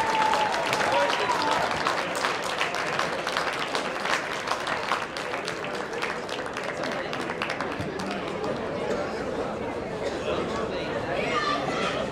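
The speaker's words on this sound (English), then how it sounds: "And let's get one more round of applause for the Premier's, ladies and gents." A crowd applauds the premiers after the 2018 first-grade rugby grand final between Sydney University and UTS Tigers. Sustained, loud clapping mixes with cheering and crowd chatter, fading slightly toward the end.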